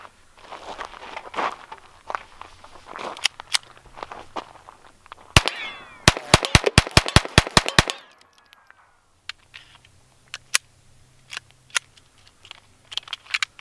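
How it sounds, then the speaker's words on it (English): A rapid string of sharp, loud gunshots from a P22 pistol firing 40-grain .22 Long Rifle rounds at a steel sewer lid, about nine quick cracks in close succession, followed by quieter scattered clicks and handling noises. "I'm using a P22 pistol, and we're using just a 40 grain 22 long rifles"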